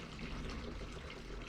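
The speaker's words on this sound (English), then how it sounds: "So this is going to be the first pour." Homemade raisin wine pouring steadily from one container into another during racking, a continuous close liquid splash and trickle with no talk.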